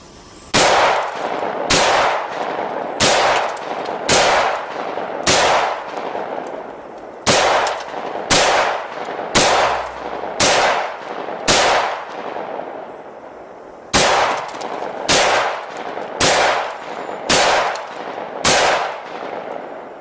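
A firearm fires repeatedly at windows outdoors, sharp loud cracks in three groups of roughly six to seven evenly spaced shots, each ringing out with a brief echoing decay.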